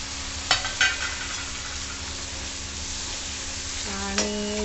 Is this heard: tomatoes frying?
yes